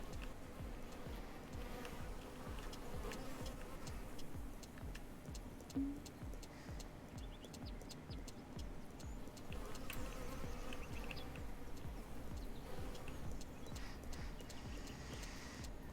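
Steady buzzing of bees around beehives in Lumberjack's Dynasty, a continuous hum with clip-clopping hooves pacing underneath, moderately loud throughout and no talk.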